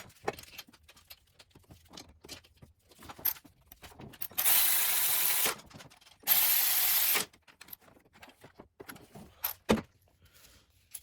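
Hand ratchet driving bolts back into a relocated coolant expansion tank bracket on an N54-powered BMW, quick clicking bursts with two longer steady whirring runs, close up, no speech.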